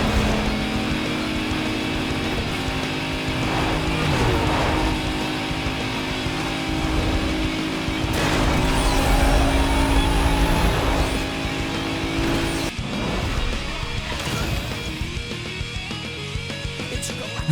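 A Mazda RX-8 races in Need for Speed: Most Wanted (2005), its engine revving and shifting continuously over about eighteen seconds, loud and close, with other cars rushing past.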